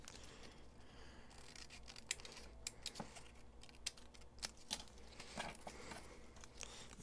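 Scissors snip along the edge of a junk-mail paper tag being made into a journal embellishment, a run of close, quiet clicks and crisp cuts spaced irregularly over low room noise.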